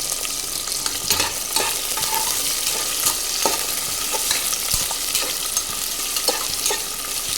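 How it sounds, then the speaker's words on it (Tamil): Onions with green chillies and curry leaves sizzle loudly in a pan for tomato rice, a dense close frying hiss punctuated by frequent quick scraping stirs of a spatula. "சேர்த்து கொஞ்சம் வதக்கி விட்டுருங்க வெங்காயம் வந்து நம்மளுக்கு நல்லா வதங்கிட்டு இருக்கு"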